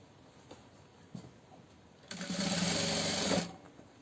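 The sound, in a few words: sewing machine stitching fabric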